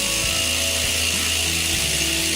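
An impact drill drives a 1/4-inch Tapcon anchor, about 2 1/4 inches long, using a 5/16 driver; a loud, steady whir carries rapid rhythmic hammering pulses throughout, with no talking.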